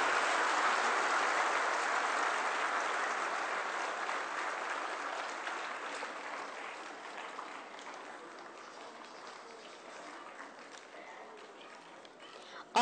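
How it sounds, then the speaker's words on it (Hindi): Sustained applause from an audience greeting a guest with a flower garland at a spiritual event, loud at first and then slowly thinning and fading over several seconds, with no speech over it. "तालियों का सहयोग देते रहे"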